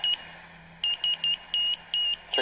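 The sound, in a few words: Raspberry Pi buzzer beeping Morse code SOS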